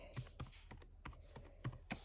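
Typing on a computer keyboard, heard as a short run of close, irregular key clicks and taps, quiet and without talk.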